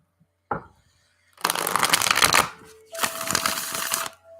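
Tarot cards are shuffled in two long riffling bursts after a single sharp tap, crisp and close, with a faint tone humming underneath and no talking.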